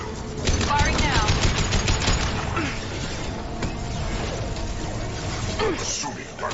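Rapid gunfire bursts from the Mass Effect 2 video game, loud and continuous, layered with game effects and overlapping voice lines across the whole stretch.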